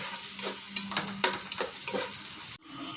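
Fish roe fries in a pan with bay leaf and whole spices, giving a steady sizzle broken by repeated sharp scraping stirs of a spatula. The sizzle cuts out abruptly near the end, then returns faintly.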